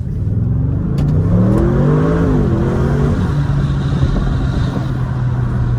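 A new Audi RS6 engine revs up from a stop, its pitch climbing as it accelerates, then settling into a steady hum; close and fairly loud, no talking.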